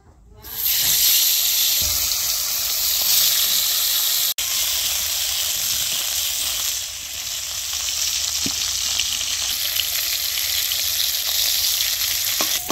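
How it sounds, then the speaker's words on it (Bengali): Pieces of fish coated with salt and turmeric sizzle loudly and steadily in hot mustard oil, a dense continuous frying hiss with a few soft clinks, close and alone without talk. "এখন আমি একটা একটা করে তেলের মধ্যে দিয়ে ভাজবো"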